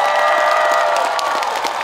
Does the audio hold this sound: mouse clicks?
no